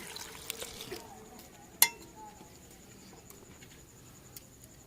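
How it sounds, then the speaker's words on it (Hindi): Water trickles and pours briefly, with a sharp clink of a vessel partway through, then quiet. "थोड़ा पानी डालेंगे।"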